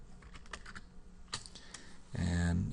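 Quick bursts of keystrokes on a computer keyboard, light clicky taps in short clusters, followed by a steady low hum near the end.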